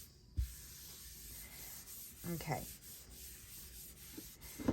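Cloth wiping the surface of a badly damaged, worm-eaten book cover, giving soft scratchy rubbing strokes at close range, with a short spoken word near the start and a faint thump midway.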